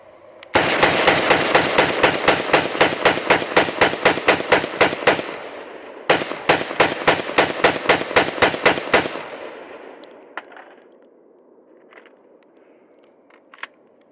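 Noveske rifle firing M855 ball rounds from a USGI magazine during a torture test, with two long strings of rapid, loud, evenly spaced shots separated by a brief pause, then a few scattered faint clicks and knocks.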